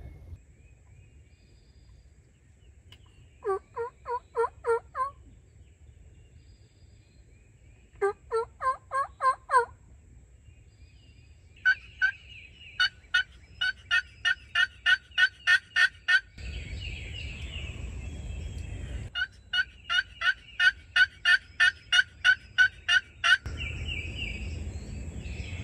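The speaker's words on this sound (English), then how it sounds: "we got a turkey gobbler" Wild turkey gobbler in spring hardwoods gobbles repeatedly from a distance, each gobble a rapid rattling burst, arriving in separate runs across the stretch with quiet gaps and a low background rumble in places.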